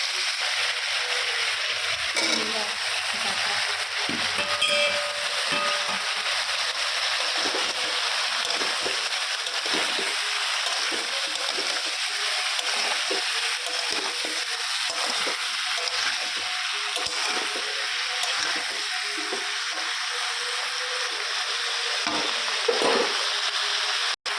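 Cauliflower and cabbage fry in a pan with a continuous, even sizzle that holds steady throughout, with faint stirring and no talk.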